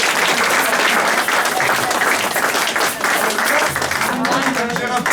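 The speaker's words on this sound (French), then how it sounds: "Nous applaudissons pour Jésus." A church congregation applauds throughout a worship service, dense steady clapping filling the room with voices mixed in underneath.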